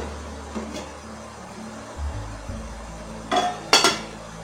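A metal pot lid clanks against a pot of steamed coconut-filled kozhukattai, with two sharp clinks near the end over a low stove hum, quiet and close with no talking.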